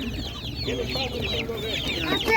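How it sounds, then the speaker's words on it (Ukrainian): Several chickens cluck and murmur continuously nearby, their chattering calls overlapping against a low background hum. "Так, ось такі курочки."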